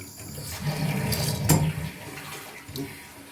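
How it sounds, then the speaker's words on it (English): An old Dauntless toilet tank with a newly replaced siphon diaphragm flushes, giving a close, steady rush of water with a louder surge midway and a smaller gurgle near the end. "And here's another test run to make sure it flushes."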